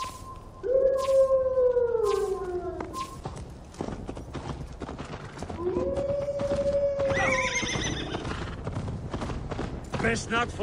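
Horse hooves clip-clop and a horse whinnies loudly during riding in the video game Assassin's Creed Valhalla, with game character voices talking over the galloping.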